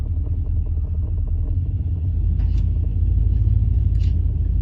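A 1987 Chevrolet Monte Carlo, driven for the first time in 25 years, idles with a deep steady rumble as it backs out, the engine note rising slightly and staying close and loud throughout.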